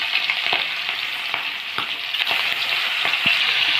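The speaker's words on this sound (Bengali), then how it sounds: "এখন আমরা মাছগুলো ভেজে নেব।" Pieces of tuna fish fry in hot oil with a steady, close hiss of sizzling. A few small pops and soft taps come through, and no one speaks.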